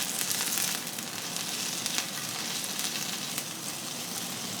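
Brinjal and onions frying in hot mustard oil, a loud, dense, continuous sizzle and crackle with scattered sharp pops throughout.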